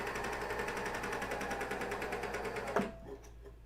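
A serger stitching over the side seam of underwear, a fast even mechanical chatter running close and steady before stopping abruptly with a small clunk, leaving a quiet hum.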